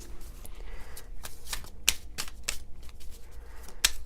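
Tarot cards being shuffled, a run of soft papery riffles and flicks with a few sharper snaps standing out, close and moderately quiet, with no talking.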